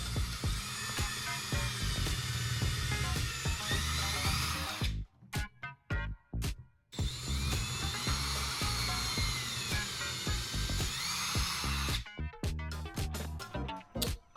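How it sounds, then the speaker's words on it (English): A power drill whines as its bit bores holes in a 3D-printed plastic part, two long close bursts at steady speed separated by short stops and stutters, then a run of quick on-off pulses at the end. "I've found a drill bit that's close to the same diameter, and I want to just pre-drill these holes"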